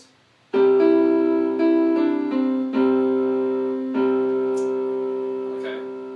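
Piano playing the melody of a song, a few chords and single notes struck one after another with long, ringing sustain that slowly fades, close and clear with no talk.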